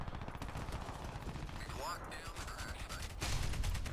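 Quiet rapid gunfire from a gun in Crysis 3, a run of shots with mechanical clicks and a whizzing sweep midway, under faint talk.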